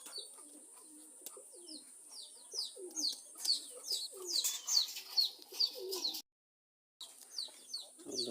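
Pigeons coo in repeated soft, throaty phrases close by, several birds overlapping with faint chirps, broken by a brief silence near the end.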